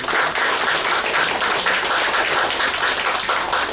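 Meeting audience bursts into sustained applause of approval, many hands clapping together steadily and loudly with no talking over it.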